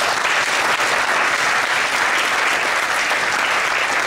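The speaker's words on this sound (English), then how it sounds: "could we please give a round of applause for the panelists?" Panelists at a discussion event on social issues receive a round of applause, a full, continuous clatter of many hands from the audience that stays level for the whole stretch.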